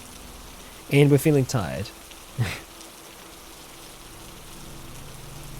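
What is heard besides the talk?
rain starting in the video game Cataclysm: Dark Days Ahead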